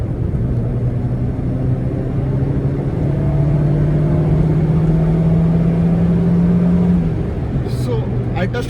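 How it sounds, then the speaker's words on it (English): A 22-year-old Tata Indica petrol hatchback pulling at full throttle in third gear, a loud steady engine drone climbing slowly in pitch, with someone talking over it. "और देखो मैं अभी 3rd गियर में गाड़ी फुल एक्सेलरेटर पे पुल कर रहा हूँ।"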